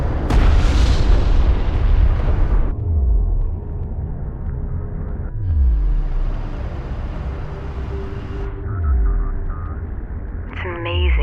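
Artillery fire support explosions in the desert strategy game Homeworld: Deserts of Kharak, a loud sustained roar of blasts with repeated low booming impacts that rise and fade over several seconds, with voices heard under the battle noise.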